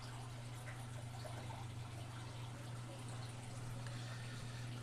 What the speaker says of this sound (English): let me get to siphoning out all this crap